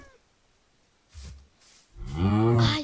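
Bulls moo in a Minecraft game: two short muffled thuds give way to a loud, drawn-out low bovine call that swells and holds to the end.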